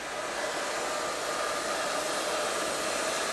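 Hair blow dryer on low heat during a beard blowout, a steady, close, loud whooshing roar that runs unbroken throughout with no voices.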